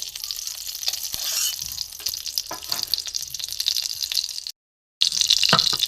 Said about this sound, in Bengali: এখানে কড়া গরম হয়ে গেছে বন্ধুরা আমি একটু ঘি দিয়ে দেবো